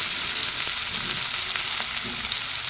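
Onions sizzle in hot oil for an Assamese khar dish: a steady, close frying hiss with soft crackles, plus a few faint clinks of stirring, and no talking.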